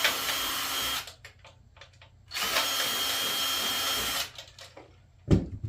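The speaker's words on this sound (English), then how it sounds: "take your drill bit, make sure that the hole is the right size." A power drill spins a bit to widen mounting holes for an RC car light kit, in two close, steady whirring bursts, one about a second long and one about two seconds, separated by quiet handling noises.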